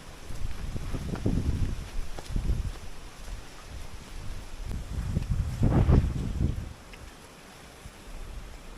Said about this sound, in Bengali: বাতাসটা সেই লাগতেছে।